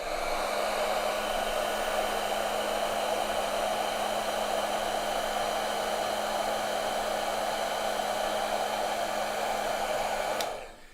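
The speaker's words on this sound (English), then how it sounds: "So I'm going to heat shrink these again." Heat gun blowing hot air to shrink heat shrink tubing on wires at a workbench, a steady loud whooshing drone running continuously for about ten seconds before cutting off abruptly.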